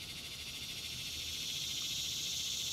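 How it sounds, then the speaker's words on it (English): A loud cicada calls in a continuous high, pulsing drone that holds steady throughout, with a faint low background beneath it and no talking. "That's a loud cicada."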